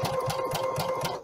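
A sewing machine runs steadily as it stitches fabric Christmas ornaments, a close, even mechanical hum with a fast regular needle pulse and no talking.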